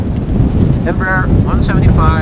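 Gusty wind rumbling into a microphone at an exposed spot at Amsterdam Schiphol Airport, a continuous low buffeting roar with short bits of speech over it.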